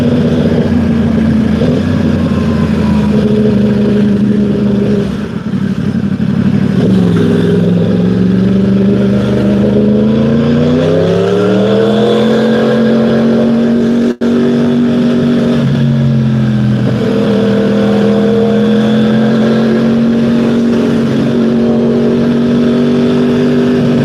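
Car engine revving up and accelerating in traffic, pitch rising in several sweeps as the gears change, loud and steady, close up inside the car with no talk.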